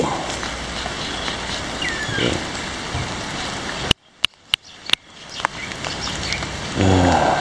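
Continuous hiss of steady rain near Gunung Reng in Jeli, Malaysia, briefly cut by a few sharp clicks and a moment of near silence, then the rain noise resumes.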